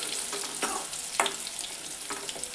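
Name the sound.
cumin and garlic paste sautéing in hot oil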